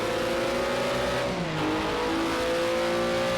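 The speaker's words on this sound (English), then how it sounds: "Andy in 4th and we've got Coops in 5th, so there are 2 hungry Nissans closing up very quickly" Nissan Group C race cars in Project Cars 2 at the Nurburgring GP give a loud, continuous engine drone whose pitch drops and climbs again as they brake and accelerate.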